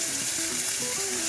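Chopped onions and garlic sauté in a pan with a dense, steady sizzle up close, broken by faint rhythmic scraping from stirring, no speech.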